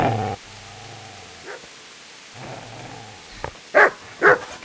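A dog in the medieval game Kingdom Come Deliverance gives a few sharp barks with a low growl underneath, then goes quiet before two loud, close barks near the end.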